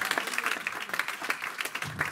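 Church congregation applauding during a sermon, a dense wash of clapping running steadily throughout with small surges, moderately near.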